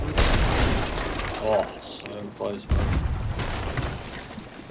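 Ship cannon fire in the pirate game Sea of Thieves, heavy booming blasts close by with debris and splash noise trailing off, while a player talks excitedly over the action.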